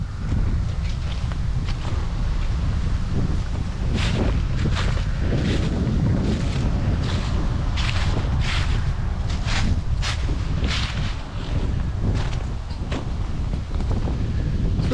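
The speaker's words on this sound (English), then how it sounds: "Man, it's really windy down here." Strong wind buffets the microphone outdoors at Pennsylvania state game lands near a picnic area, a loud continuous roar with gusty rumbles and scattered rustling and footstep-like knocks throughout.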